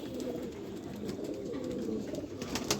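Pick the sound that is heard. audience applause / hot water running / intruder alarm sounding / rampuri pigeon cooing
rampuri pigeon cooing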